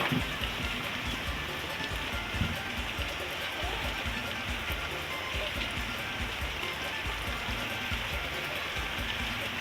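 Steady, dense rain pours down during a rainy spell in southern Thailand, a constant close wash of noise with no breaks, continuing alone for the whole stretch.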